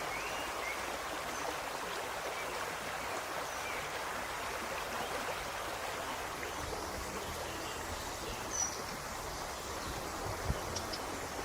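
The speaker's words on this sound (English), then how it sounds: "Water cascades through the mesh." Water cascades through the mesh of a wooden net lifted from a stream, a steady broad rushing and trickling wash at moderate distance, fairly faint, with a couple of small splashes and no talking.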